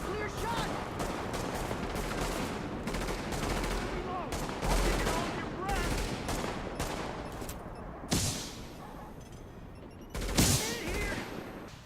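Gunfire from the video game The Division comes as dense bursts of automatic shots and single cracks with louder blasts near the end, heard over a mix of game sound and voices.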